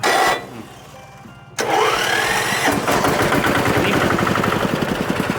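A single-cylinder 14-horsepower walking tractor engine cranks and catches, then runs with a rapid, loud, evenly thumping putter close by.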